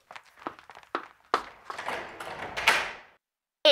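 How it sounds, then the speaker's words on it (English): A door in a corridor being unlocked with a key and pushed open: several short metallic clicks and knocks, then a longer rattling creak and sweep, heard close with no talking. "with the key, open the second door on your right"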